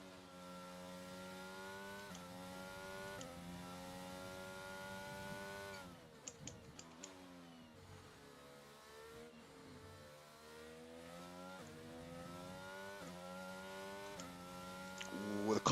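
F1 car engine in the F1 22 racing game at Silverstone, a steady high-pitched whine with rising and falling revs, dipping briefly mid-lap as the car wavers before climbing again, moderately loud and continuous.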